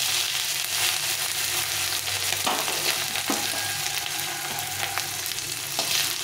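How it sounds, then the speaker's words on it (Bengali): Grated ginger frying in a pan over a lowered gas flame gives a steady close sizzle that runs the whole time, broken by a few soft stirring clicks. "আদাটাকে একটু ভালো করে ভাজা করে নিতে হবে।"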